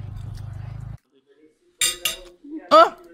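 A cooking pan falls and clatters, producing a couple of sharp metallic clanks followed by a ringing clink, with a voice exclaiming alongside.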